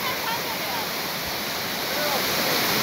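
Çağlayan waterfall in Erzincan pours over rocks, making a steady, close rushing roar of water that holds even and unbroken throughout.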